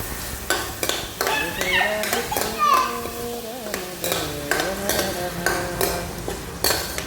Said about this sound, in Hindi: मैं सब्जी छौंक रहा हूँ ना